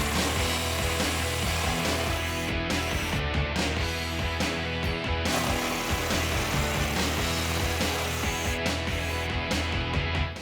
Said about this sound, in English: I'm using an impact gun